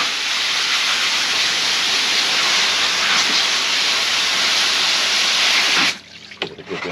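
Water from a tap runs in a steady loud hiss over a Tetra pond filter sponge as it is rinsed, then cuts off near the end, leaving faint handling noises.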